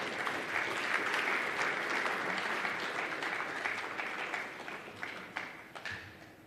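Audience at the 11th Merck Foundation Africa Asia Luminary conference in Tanzania applauds steadily, a dense, loud wash of clapping that holds for several seconds before thinning slightly toward the end.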